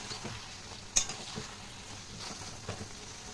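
Ridge gourd and potato posto is stirred in a pan, a faint soft sizzle with a few quiet spoon scrapes and one sharp clink near the start.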